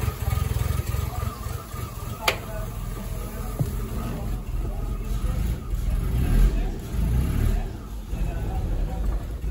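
An old car engine, first started after sitting for 20 years, runs with a steady low rumble and idle that swells slightly at moments, while people talk over it.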